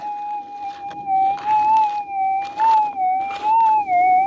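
A steady, wavering metal detector target tone hums continuously, soft and faint, with faint scraping and rustling bursts underneath, over a gold ore body.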